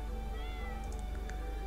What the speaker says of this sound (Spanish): ¿Qué hace este gato por aquí?